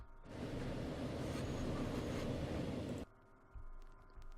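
A train rolling in the game Transport Fever, a loud steady rumble that stops abruptly after about three seconds, leaving quieter background sounds.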